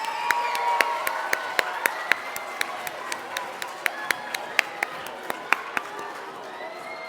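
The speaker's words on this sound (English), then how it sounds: "Can we please give our Year 4 contestants a huge round of applause?" A school audience applauds Year 4 contestants at a mental maths quiz competition, with a steady wash of clapping and sharp individual claps standing out, moderately loud and sustained without any talking.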